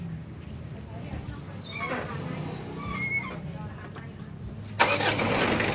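A Mitsubishi Adventure engine with a rough idle cranks with a whirring starter, then catches and settles into a steady running rumble close by, with people talking over it.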